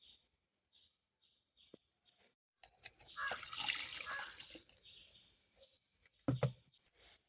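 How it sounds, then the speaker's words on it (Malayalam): Water poured from a container onto the dry soil of a potted black ginger plant, a soft splashing trickle lasting several seconds with a brief louder splash near the end, set against quiet outdoor insect chirps. "അപ്പോൾ നമുക്കിനി വെള്ളം ഒഴിക്കണം"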